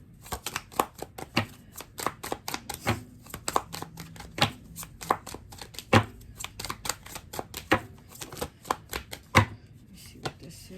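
Tarot cards shuffled by hand in a pick-a-card reading, a long run of crisp, irregular riffling snaps and slaps heard close, with faint talk here and there.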